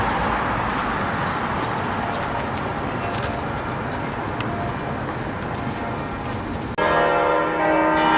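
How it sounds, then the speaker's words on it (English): Church bells toll steadily in the distance over a continuous wash of outdoor noise on a Sunday morning in Europe, the ringing carrying on throughout. "Church bell after church bell is tolling."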